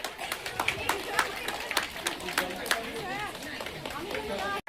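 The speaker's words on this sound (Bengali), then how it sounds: "সবাই হাততালি দাও।" Scattered clapping at a primary school ceremony welcoming a guest, irregular claps mixed with lively chatter from a crowd of children and adults, with voices prominent throughout.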